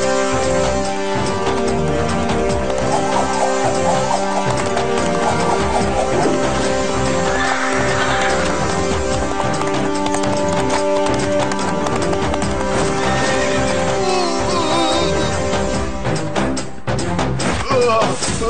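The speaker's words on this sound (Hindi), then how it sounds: "ये घोड़ा सारे बाजार को मैदान बना देगा" A horse gallops through a market street, its hooves clip-clopping in a quick continuous rhythm, loud and close, layered over busy music and background commotion.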